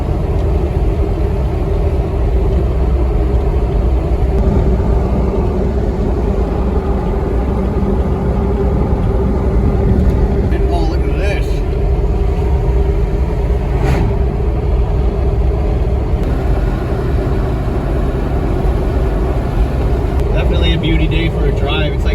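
A 1989 Ford F250 truck drives along with a steady, loud engine drone and road rumble throughout, with a voice occasionally heard over it.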